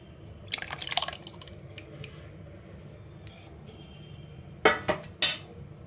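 Water from cooked moong dal is poured slowly into a pot for pesarakattu, giving a short splashing burst early on and then two brief louder pours near the end, with quiet kitchen background between them.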